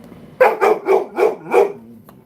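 A dog barks five times in a quick, even series, close and loud, with no other sound beneath.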